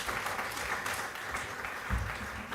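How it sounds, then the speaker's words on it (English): An audience at a university innovation festival applauds a professor with a steady, moderately loud wash of clapping throughout. "A huge round of applause for Prof."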